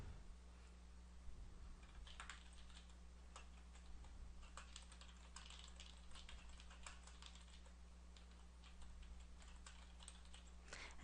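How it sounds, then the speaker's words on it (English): Steady keyboard typing throughout, close and fairly quiet, with rapid irregular key clicks over a low constant hum, while a brief description is entered into an Excel macro dialog. "We can type in a brief description."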